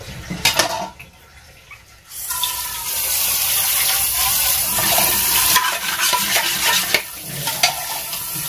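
An egg frying in plenty of oil, a loud continuous hiss and crackle that swells in after a couple of seconds of quieter kitchen clatter, close and steady.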